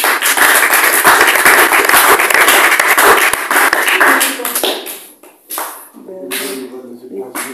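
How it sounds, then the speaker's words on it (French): Church congregation applauding: dense, loud clapping for several seconds that thins out into scattered claps, followed by a voice speaking. "Acclamons pour le frère."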